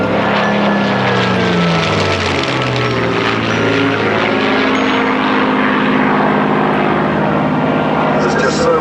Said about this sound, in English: This is the very plane, the same model that was flown, of course, by Max Collins.